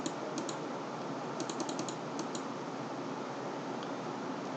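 Fingers tap a calculator keypad in quick clustered presses, small crisp clicks over a steady background hiss, with no talking.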